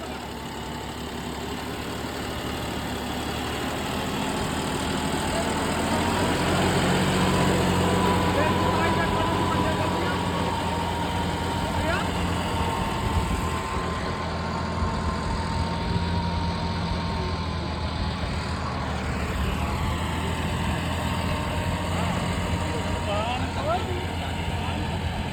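A John Deere 5405 CRDi tractor idles steadily for the whole stretch, a continuous mid-pitched diesel hum with faint knocking, heard up close under background voices.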